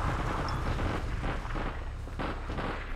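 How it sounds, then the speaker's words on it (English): Grenade explosions in the online shooter APB Reloaded: a loud, continuous rumbling roar of blasts with a few sharper bursts, close and dense, with no clear voices. "Spam the nades."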